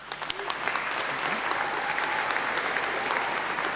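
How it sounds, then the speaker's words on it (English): An audience at a winter university graduation congregation bursts into loud, dense applause with some cheering, a continuous wall of clapping that holds steady throughout. "give a huge round of applause and cheer to everyone in front of you who has supported your journey"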